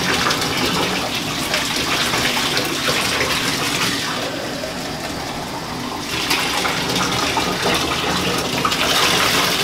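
Tap water runs steadily into a tub while a Vizsla dog is bathed, a loud continuous gushing and splashing that dips slightly in the middle before surging again.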